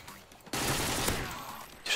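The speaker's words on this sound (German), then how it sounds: "Die Schüsse kommen vom Haus." Sustained burst of gunfire from a house in the video game Modern Warfare 2, a loud dense fusillade starting abruptly and continuing for over a second with a fresh crack at the end.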